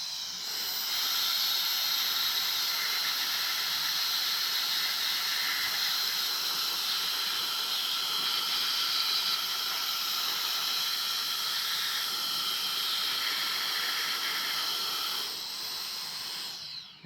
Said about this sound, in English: I'm going to blow it with a little blower.